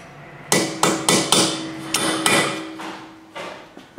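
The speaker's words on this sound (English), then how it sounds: "Make sure you use a punch, not a screwdriver, and hammer this up so we can get the nut off here." A metal hammer strikes a punch against a front-wheel-drive car's axle nut during a clutch replacement, about eight sharp ringing blows at an uneven, steady pace, close by and loud with no talking.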